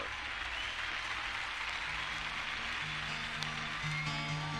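Audience applause as a folk singer walks on stage at a 1977 concert: a steady, dense wash of clapping from a crowd, continuous throughout, with faint musical tones creeping in near the end.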